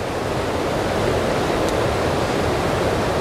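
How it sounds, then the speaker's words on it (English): The Rhenass River on the Isle of Man rushes near its waterfalls in Glen Helen, a loud, steady, broadband roar of water that fills the whole stretch without pause. "So this is the Rhenass River."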